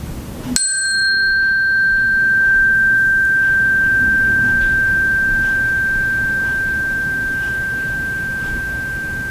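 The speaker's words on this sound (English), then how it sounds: "when you don't hear the bell anymore, when it stops, here we go." A single bright bell strike during a children's yoga class rings out with a long, pure sustained tone, slowly fading over several seconds in quiet.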